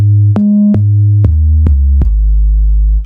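808 bass notes from a Kontakt sample library played several octaves up, a run of about six sharp-attacked tonal hits in a stepping melodic pattern, with the last note held and ringing out.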